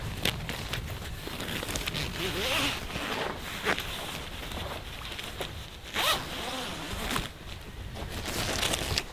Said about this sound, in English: get this little zip.